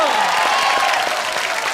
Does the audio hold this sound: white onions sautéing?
no